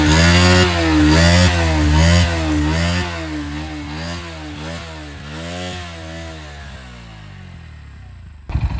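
A motorcycle engine close by, idling and revving in repeated rising and falling surges, loud at first and then settling to a steadier idle before a sharp clatter at the end.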